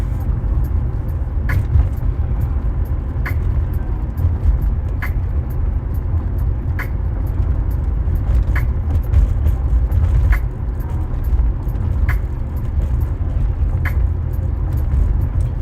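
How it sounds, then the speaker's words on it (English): Road noise inside a car moving along a very bumpy street, a loud constant low rumble with regular faint clicking thumps repeating throughout and no talking. "Sorry for the road noise."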